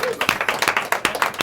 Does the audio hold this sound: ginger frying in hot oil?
no